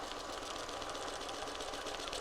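Sewing machine doing freehand quilting swirls, a quiet, fast continuous needle rattle that runs steadily and close without pause for the whole brief stretch.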